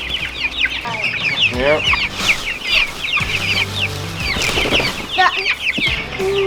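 Young chicks about three or four weeks old peep and cluck continuously up close, a busy chorus of high chirps with lower clucks, while a person speaks briefly.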